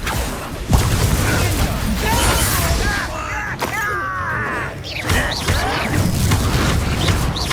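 Spell effects in the Hogwarts Legacy video game, with a sharp explosive boom early and several more bursts and crackling impacts layered over continuous game music and ambience.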